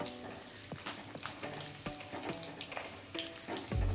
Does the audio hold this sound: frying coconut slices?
yes